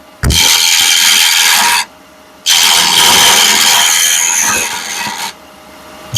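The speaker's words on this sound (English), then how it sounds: "I'm using a 3/8 spindle gouge." A 3/8 spindle gouge rounds a spindle blank on a wood lathe. Two long, loud, close bursts of rough scraping and cutting hiss are separated by a short pause, and a third burst begins at the end.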